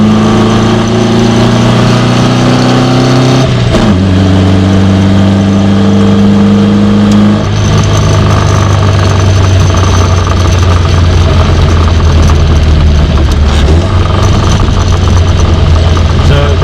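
A 1970s Ford Capri engine revs up and down while driving through short first and second gears, loud and close, the pitch climbing in steps with gear changes and a steady drone later.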